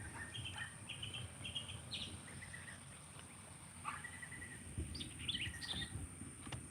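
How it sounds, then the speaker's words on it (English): Birds singing on a farm in the morning, several short chirps and whistled phrases scattered at a distance over faint low rumble and a steady high hum. "the bird songs do sound beautiful this morning"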